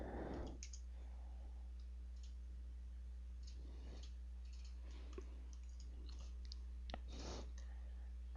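Computer mouse clicks while working in CAD software, a few faint, sparse clicks over a steady low hum.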